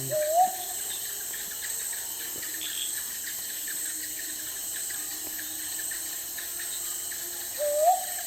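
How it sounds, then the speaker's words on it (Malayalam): Two soft rising hoots from a brown boobook owl in Thattekad Bird Sanctuary, one at the start and one near the end, over a constant chorus of crickets at night. "ബ്രൗൺ ബൂബൂക്ക് എന്നറിയപ്പെടുന്ന പുള്ളുനത്താണിത്"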